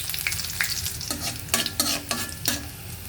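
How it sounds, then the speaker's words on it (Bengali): Chopped dried red chili fries in oil with a continuous crackling sizzle, broken by several scraping strokes of a spatula stirring the pan. "শুকনা মরিচটা ভাজা ভাজা হয়ে গেছে"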